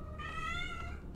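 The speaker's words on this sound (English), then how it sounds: "if anybody hears the meow meowing, say hello to Miss Carol" A cat named Miss Carol meows once, a single drawn-out call of about a second with a rising then falling pitch, clear and fairly close over a low background rumble.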